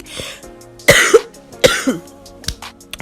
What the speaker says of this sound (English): I am coughing in between these takes